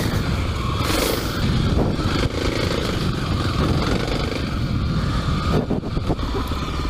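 Kawasaki KLX300 dirt bike with Tusk DSport and Pirelli MT21 tires riding an untouched, leaf-covered trail, its engine droning loudly and continuously up close with revving swells, rustling and scraping underneath, and no voices.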